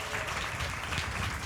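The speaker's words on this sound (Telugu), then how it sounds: "చప్పట్లు కొట్టి ప్రభుని గణపరుద్దామా" Congregation clapping hands together during a Sunday church worship service, a dense, steady patter of many hands sustained throughout.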